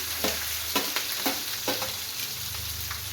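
Onions sizzle in a hot pan with cumin and green chilies, a steady frying hiss broken by several sharp stirring scrapes, close and fairly quiet, with no talking.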